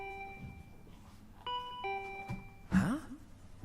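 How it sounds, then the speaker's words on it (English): A doorbell chimes twice in a bedroom scene of the video game Danganronpa V3, with a clear two-tone ding-dong at moderate volume over quiet ambience, followed by a short vocal sound. "My body reacted reflexively as I heard the doorbell."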